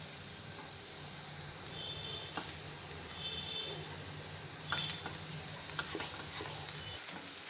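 Noodles tossed and stirred into vegetables frying in a pan for street-style egg noodles, giving a steady soft sizzle with faint scraping stirs and light clicks throughout, no voices.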